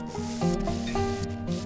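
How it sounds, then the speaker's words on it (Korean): Steady, close rasping of finer sandpaper rubbing back and forth over a 3D-pen plastic model, with soft background music underneath. "다음은 더 고운 사포로 갈아줘야 합니다."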